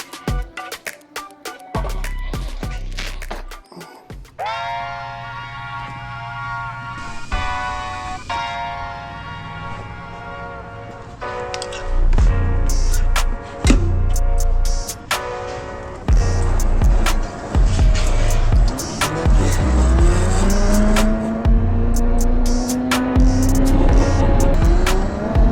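A Rizzler Sport electric mini bike rated for 60 mph is taken out for a spin, giving a loud, continuous motor whine that rises in pitch as it accelerates, with bursts of road and wind noise throughout.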